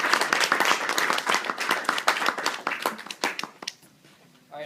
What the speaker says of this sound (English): So let me ask everyone to give you a round of applause.